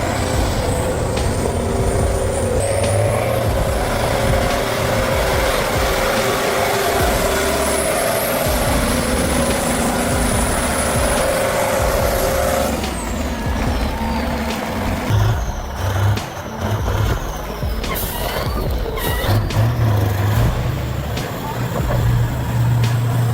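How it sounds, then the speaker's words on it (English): A heavy off-road wood truck's engine labours up a steep hill, a loud continuous roar with a sustained whine, then rougher bursts and air-brake-like hisses near the end, with narration over it. "The engine roared, strong and determined, pushing the massive block of steel over the steep slopes."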